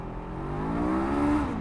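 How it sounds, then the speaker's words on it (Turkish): A Voge RR525 motorcycle engine revs steadily, its pitch rising as the throttle opens, with a constant loud drone throughout and no voices. "Baksana abi gaz veriyorum sadece."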